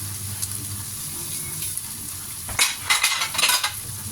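Rice noodle rolls and vegetables stir-fried dry in a pan, with a steady frying sizzle throughout and sharper scraping and clattering bursts of a utensil against the pan in the second half.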